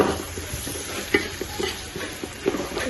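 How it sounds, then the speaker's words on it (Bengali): Rice grains fried with salt and stirred in a pan, giving a steady low sizzle under scattered scraping strokes and soft clinks of the spoon, close and moderately quiet with no talk. "এখানে আমি ভালো করে চালটা ভেজে নেব, সাথে একটু আদা বাটা দিয়ে দেবো।"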